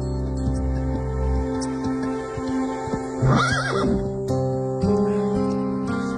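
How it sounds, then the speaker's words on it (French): A horse whinnies in a rising and falling neigh over a steady background hum, with a few soft thumps and rustles around it. "J'aimerais que mon cheval soit en meilleure forme, Jack."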